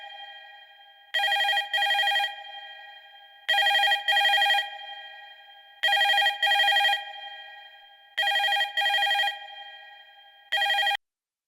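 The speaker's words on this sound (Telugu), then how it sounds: "ఇదంతా ఫోన్ చేసి అర్చనకి చెప్పేయాలి" A telephone rings in regular double bursts, five rings in a row, clear and close with silence between them and no talking.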